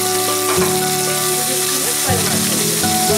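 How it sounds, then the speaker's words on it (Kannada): Green chillies, ginger and curry leaves frying in hot oil in a pan, a steady close sizzle that swells in bursts as the pieces are added and stirred, with no voices. "ಫ್ರೈ ಮಾಡ್ತೀನಿ"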